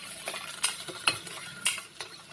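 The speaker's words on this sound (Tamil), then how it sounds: "நல்லா கிளறிக்கணும்." Green chilli and ginger garlic paste are stirred in a pan, a spoon scraping and clinking against the metal in several quick strokes over a light sizzle, close up with no voices.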